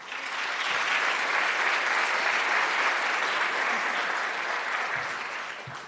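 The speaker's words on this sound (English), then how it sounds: "Please give a warm applause" Audience applause welcoming a speaker at a machine learning conference talk, a steady, full burst of clapping lasting several seconds before tapering off.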